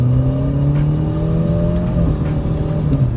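Alfa Romeo Giulia 2.0T with a custom Valvetronic muffler and resonator delete, its engine note holding steady and close with a slight climb in pitch, loud and alone with no talk.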